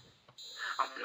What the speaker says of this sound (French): Là, vous avez une petite alarme incendie.